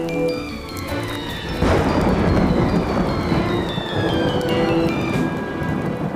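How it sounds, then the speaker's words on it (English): A thunderstorm breaks with a loud rumble of thunder over steady heavy rain drumming on surfaces, close and continuous throughout. "Here comes the storm."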